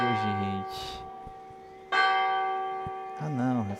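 A church bell rings in the video game Martha Is Dead, with a sustained ringing tone that swells in two strong strikes and decays between them, while a voice speaks at the start and end.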